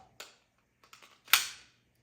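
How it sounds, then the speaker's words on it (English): A pistol magazine slides into a handgun during a reload, giving a few small clicks and then one sharp, loud metallic click-clack, close and alone. "I need to put a new magazine in. I ran out of ammo."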